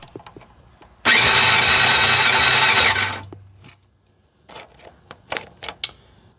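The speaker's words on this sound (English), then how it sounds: "let's go ahead and start cranking it over for the compression test and get a baseline of this engine's health" A Yamaha FZR600 motorcycle engine, off the road for twenty years, cranks over loudly on the starter for a compression test, a steady whirring burst of about two seconds that winds down, followed by faint clicks and handling noises.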